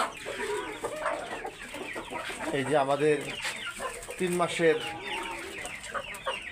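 Three-and-a-half-month-old Australorp pullets cluck and chatter close by on a poultry farm, in short repeated bursts while someone talks over them.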